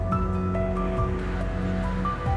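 The Thirparappu waterfall on the Thamirabarani river gives a steady, rushing roar of falling water in the rainy season. Tonal music plays over the roar, which stays constant for the brief moment.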